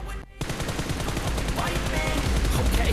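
Sustained automatic gunfire in a shooter video game, a loud, dense burst of rapid shots running almost unbroken after a brief pause at the start.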